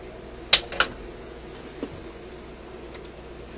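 Cutters snip capacitor leads inside an RCA A25 vacuum tube shortwave radio: two sharp close clicks in quick succession, followed by a few fainter ticks over a quiet background.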